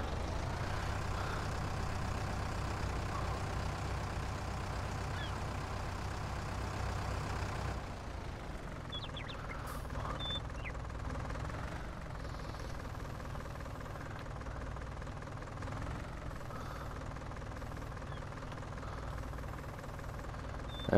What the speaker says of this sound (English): And pull them all down the road in a tractor that's, a little need of a tune-up